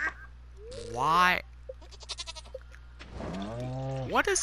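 Goats bleating in the Stardew Valley video game: two loud, wavering bleats, each about half a second long, separated by faint clicks and small game sounds.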